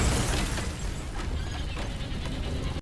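Explosion in a film scene, a dense, loud burst of rumbling noise that holds for nearly three seconds with crackling debris on top before cutting off abruptly.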